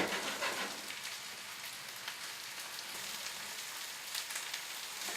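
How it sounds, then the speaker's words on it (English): Quiet, steady sizzling of asparagus sautéing in oil in a hot pan, with a soft crackling hiss and no voices. "I'm going to saute them for a few minutes"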